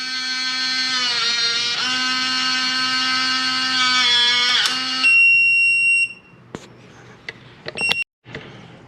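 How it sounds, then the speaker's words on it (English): A Kwikset 914 SmartCode smart deadbolt calibrating, giving off a loud, steady, buzzing electronic tone that lasts about five seconds, followed by a few short high beeps and clicks of the lock mechanism. "When it's done, it'll stop beeping."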